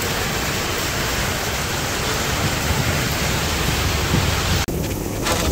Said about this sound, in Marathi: फायनली पाऊस लागला.